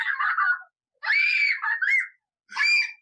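A young girl screams in three separate shrill bursts with short silent gaps between them, loud and close. Her cries sound torn between distress and laughter, with no other voices heard.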